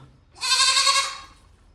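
A single clear Barbari goat bleat, short and wavering, fairly close in an otherwise quiet setting.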